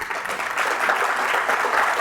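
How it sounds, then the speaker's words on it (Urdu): Studio audience of young people applauding at the close of a Pakistani television talk program, steady dense clapping from a group, moderately loud and continuous for the whole moment. "آخر میں آپ سب کے لیے تالیاں آپ خود بجائیں گے"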